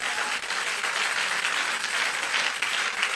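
A church congregation applauds steadily and at full volume throughout, a dense, even wash of many hands clapping with no speech heard over it.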